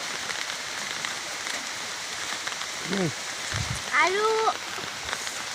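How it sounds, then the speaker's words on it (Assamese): Heavy rain pours onto a pond in a steady, dense hiss that runs throughout. A voice briefly sounds near the middle. "বৰষুণ দি আছে বহুত"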